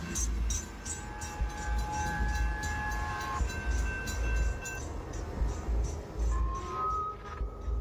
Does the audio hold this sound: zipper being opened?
no